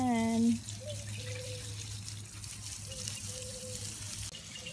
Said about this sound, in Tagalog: Naglalagay po ako ng tubig sa mga halaman.